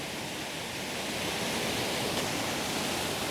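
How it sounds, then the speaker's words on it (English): A camping gas stove roars at full flame under a pot of boiling water, giving a steady, even hiss that holds at the same level throughout. "So the stove could boil water quickly."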